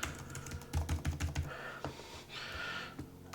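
Typing on the keyboard of an Alienware x14 gaming laptop: a quick run of close, crisp key presses with a steady rhythm, then a few scattered taps at the end, with no talking.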